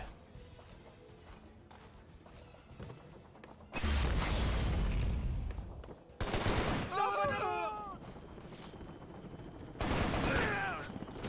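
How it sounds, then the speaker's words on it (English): Bursts of gunfire and loud explosions from RPG rounds in the shooter game Shadow Ops: Red Mercury, several sharp blasts separated by quieter gaps, with players talking faintly underneath. "just heard an RPG"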